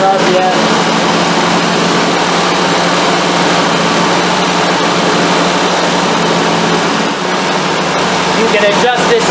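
A classic car engine with SU carburettors revs steadily at about 2,700 RPM, a loud, continuous broadband drone that holds for the whole stretch with no pauses.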